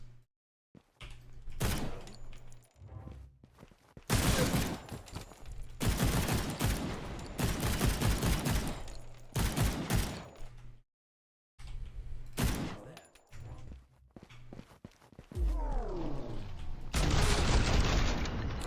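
Default rapid-fire weapon in the video game Suit for Hire fires in several sustained bursts of close, loud gunfire, separated by short pauses and one clear silent gap.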